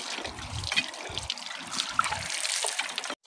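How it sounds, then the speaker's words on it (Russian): Water trickles and gurgles steadily into a bottle at a February woodland cabin, the pour near and continuous for about three seconds before cutting off abruptly. "Сейчас вот Илья набирает нам воду. Сейчас еще вторую бутылку, может, наполним."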